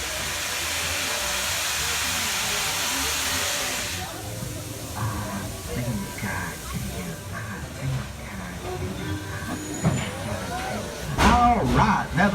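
Dollywood Express steam train starts to move, opening with a loud broad steam hiss that cuts off, then rumbling carriage and track noise as it gets going, with people talking throughout.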